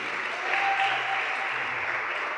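A church congregation claps for the Lord during a sermon, a steady, even wash of applause at close range, with a faint sustained tone running underneath.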